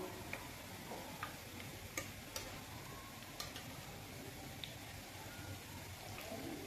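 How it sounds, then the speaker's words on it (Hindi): Flour and yogurt snacks fry in hot oil as a soft, steady sizzle with faint scattered ticks and crackles, quiet and continuous with no talking. "ये देखिए कितने खूबसूरत फ्राई हो रहे हैं"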